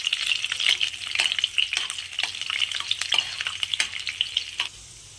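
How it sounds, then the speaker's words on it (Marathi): Garlic frying in oil in a pan for lasuni methi, a bright close sizzle broken by repeated scraping stirs of a spoon, fading out near the end. "आपण आता याच्यामध्ये लसूण टाकणार आहोत। लसूण थोडंसं आपण लालसर होऊ देणार आहे।"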